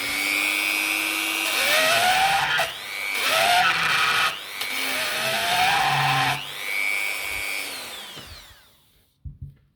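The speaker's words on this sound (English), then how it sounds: "This is a sandpaper, another tool from Dremel, and this I already used" A Dremel 3000 rotary tool with a sanding attachment whines at high speed in several bursts. The pitch dips as it bites into the work and recovers between contacts, then it spins down to silence with a few small knocks at the end.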